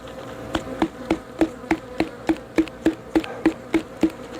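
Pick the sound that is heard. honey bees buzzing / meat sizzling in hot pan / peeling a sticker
honey bees buzzing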